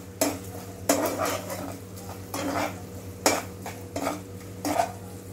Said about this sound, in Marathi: हे सगळं आपण चांगलं परतून घेऊया.